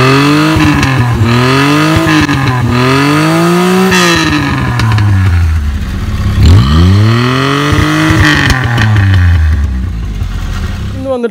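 Maruti 800 small car engine revving with a low-budget valvetronic exhaust switched on, rising and falling in repeated loud revs that climb and drop, close and continuous, with a voice faintly under it.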